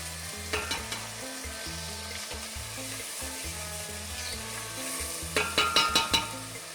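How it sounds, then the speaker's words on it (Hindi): Chicken fries in masala in a pan for kachnar gosht with a continuous crackling sizzle. Sharp clatters from stirring come near the end, over soft background music. "चिकन को हम अच्छी तरह भून लेंगे"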